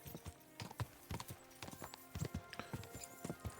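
A horse's hooves clip-clop in a quick, steady rhythm in the video game Kingdom Come: Deliverance 2, close by and fairly quiet.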